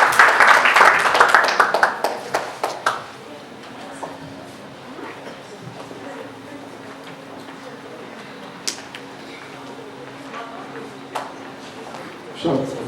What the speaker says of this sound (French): On acclame aussi très fort.